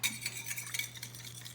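Egg being beaten together with sweetened condensed milk for a key lime pie filling, with light, quick clinks of a utensil against a bowl repeating over a steady low hum.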